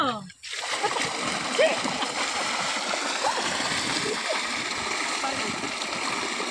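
Continuous splashing and churning water in a bathing tank nearby, with voices talking over the watery noise.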